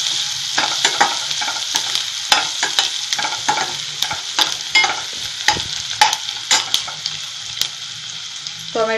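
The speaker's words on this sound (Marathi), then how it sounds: "कांदा लाल रंगावर येईपर्यंत परतून घ्यायचा." Onions and curry leaves sizzle loudly in a pan as a spatula scrapes and stirs them in quick repeated strokes, with a steady frying hiss beneath the clatter.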